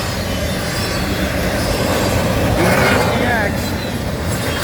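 A southbound CN intermodal freight train led by ET44AC and ES44AC locomotives rolls past close and loud, a steady heavy rumble of railcars with wheels squealing mid-pass, while people talk over it.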